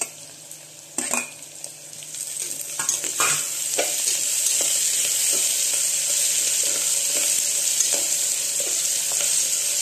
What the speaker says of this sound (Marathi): कांदा बऱ्यापैकी जरा भाजला